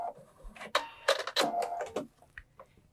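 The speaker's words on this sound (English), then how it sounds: "and then I'm going to cut my thread." Sewing thread snipped at the edge of a quilt binding after a short back stitch, with rustling handling noise and a few quick close cuts.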